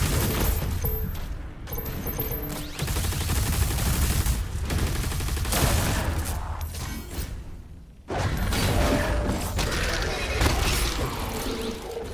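Heavy, high-recoil weapon fire in the video game DOOM The Dark Ages, heard as dense, sustained bursts of loud mechanical shots and clatter, broken by one brief pause before resuming just as intensely.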